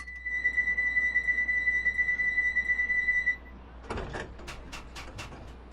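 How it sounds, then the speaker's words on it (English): Door-closing warning tones in a 1972 Mark II Tube Stock train in Train Sim World 2, a steady repeating electronic beep pattern for about three seconds, followed by several short clunks and hisses as the doors shut. "So we're going to press the door close button."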